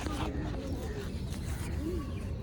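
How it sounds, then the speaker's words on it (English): A small bird perched close by gives soft cooing, dove-like calls, brief and faint, set against a steady background with a voice talking over it. "it's nice to have that little bird sit there"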